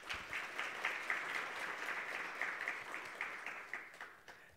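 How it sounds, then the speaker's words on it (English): Applause from a conference audience at the Namibia National Green Hydrogen Conference, a dense, even wash of many hands clapping heard from some distance, fairly soft and steady for several seconds with no talking. "Please give him another round of applause."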